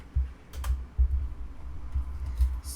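Python code for a MySQL database project is typed on a computer keyboard: a short run of close, irregular key clicks and taps at a quiet level, with no voices.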